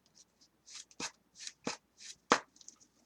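Trading cards from a Thunder Dragon Lightsworn duel deck are shuffled by hand, giving quiet soft riffles broken by three sharp slaps, with no talking.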